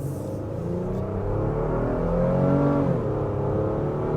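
A 2025 Honda Pilot Elite SUV pulls away at half throttle, its engine note a steady, rising drone heard from inside the cabin, climbing smoothly in pitch before easing slightly near the end, with no talking.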